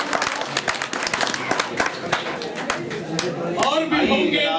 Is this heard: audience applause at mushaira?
yes